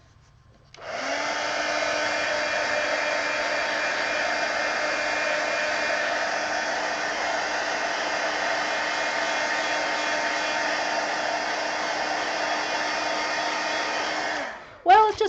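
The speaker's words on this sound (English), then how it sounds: "let me hit this with the heat gun." A heat gun blows over watercolor lettering with a steady, even roar that holds for about fourteen seconds before switching off, with a short clatter at the end.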